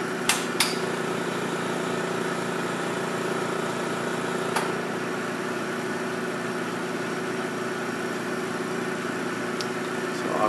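A KLA-Tencor FLX-5400 thin-film stress measurement tool's wafer handler starts up with a steady mechanical hum and whir, punctuated by a few sharp clicks and clunks near the start and midway.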